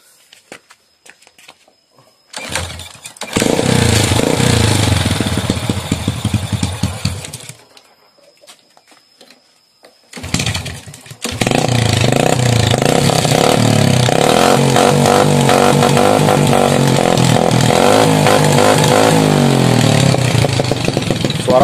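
A small motorcycle engine with a spark plug that keeps dying sputters to life, runs briefly, dies, then restarts and idles loudly and steadily with a rough, uneven, abnormal rattle.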